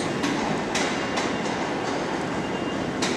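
A class 387 Stansted Express train pulls out of London Liverpool Street station with a loud, continuous rumble of rolling wheels and faint rhythmic clacks over the rail joints.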